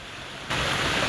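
Irrigation canal water rushing forcefully beside paddy fields during rice transplanting, a steady broadband roar that jumps suddenly louder partway through as if coming closer to the flow, with no voices.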